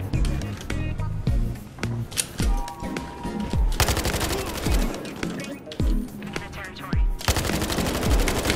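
Rapid bursts of automatic gunfire and single gunshots in the online shooter Battlefield Hardline, loud and close, repeating in clusters with brief gaps over roughly eight seconds.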